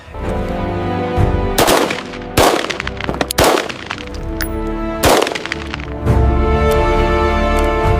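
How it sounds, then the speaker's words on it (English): Two Smith & Wesson Model 1917 revolvers, one an original, firing .45 auto rim, loud sharp shots at irregular intervals, several close together, each followed by a ringing echo. "So what we are going to do is one more firing test, but with two Smith & Wesson Model 1917s."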